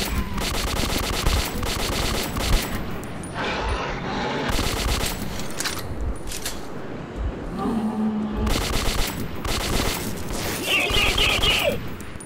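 Sustained automatic gunfire from the first-person shooter Metro 2033, loud and close, rattling in rapid bursts with short gaps, mixed with game effects and occasional shouted dialogue.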